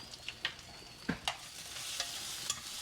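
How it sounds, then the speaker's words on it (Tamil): Onions and ginger-garlic paste sauté in a pan under a soft, constant sizzle, punctuated by several distinct clinks and scrapes of a spoon stirring against the pan. "வெங்காயம் ஓரளவுக்கு வதங்கிடுச்சு"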